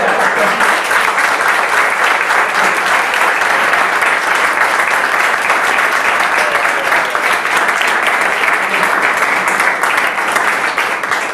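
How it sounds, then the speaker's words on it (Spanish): Loud, continuous audience applause at a comics talk on toxic masculinity at KBOOM! 2018, dense and steady clapping filling the room without letup. "Un aplauso para ella."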